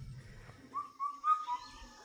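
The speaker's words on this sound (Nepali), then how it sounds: "काफल पाको भनिन्छ यो चराले।" A kafal pako bird, the Indian cuckoo, calls from some distance in the hills: a quiet series of four clear whistled notes, with faint low background noise before it.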